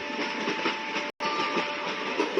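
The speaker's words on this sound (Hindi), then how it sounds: "ऐसे लग रहा है रेलवे में जा रहा है।" A train rolls along the rails in a played audio story episode, giving a steady rumbling roar with a faint tonal hum that drops out briefly for an instant before resuming, with no voices heard.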